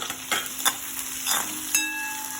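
Onions and chopped tomato sizzle in a hot pan as they are sautéed, with a few scraping strokes of a utensil over a constant crackling hiss.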